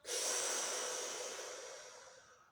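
One strong, deep exhale through the mouth during a calming breathing exercise, a close breathy rush that starts sharply and fades gradually over about two seconds.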